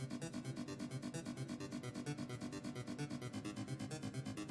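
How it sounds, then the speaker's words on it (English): A synthesized harpsichord pattern shifted down an octave, a quiet, rapid, evenly pulsing run of plucked notes that repeats steadily with no voices. "So now our harpsichord sounds like this."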